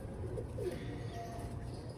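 Pigeons coo softly and continuously, a low throaty burbling close by, with no voices.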